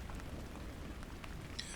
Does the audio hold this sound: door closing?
no